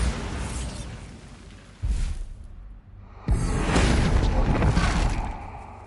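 Bombarda blasting spell explosions in Hogwarts Legacy, two loud booming bursts with a broad whooshing roar, the second around the middle and sustained to the end, no talk.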